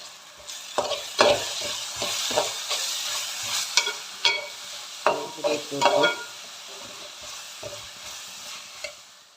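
Onions and turmeric stirred in a hot pan for chicken masala, a spoon scraping and tapping in irregular strokes over a soft, steady sizzle, close by.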